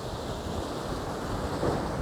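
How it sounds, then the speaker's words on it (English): Sea waves break and wash against rocks along a fishing shoreline, a steady broadband roar of surf mixed with wind buffeting the microphone, continuous and fairly loud with no talking. "Waves are definitely coming through"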